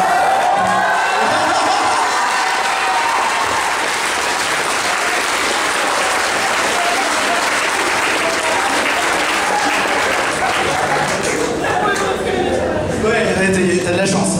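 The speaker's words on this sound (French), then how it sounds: "ça fait beaucoup d'applaudissements" Sustained applause from an audience filling a hall during a Japan Touch Haru 2015 convention screening, dense and steady for the full stretch with a little crowd noise rising near the end.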